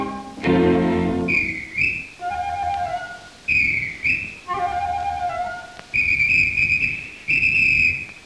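A whistled melody from TF1's La Chance aux Chansons, a French television variety broadcast of 18 March 1986, played as clear sustained tones that rise and fall in phrases, with short gaps and low musical accompaniment underneath.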